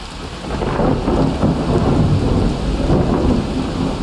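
A heavy thunderstorm in Skyrim, with dense steady rain hissing over a deep, continuous thunder rumble that swells early and holds loud throughout, with no voices.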